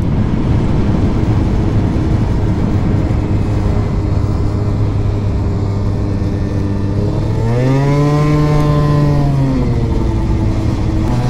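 A scooter rides along with a steady droning engine and an odd whine from the gearbox at the rear, which swells and climbs in pitch partway through, loud and continuous.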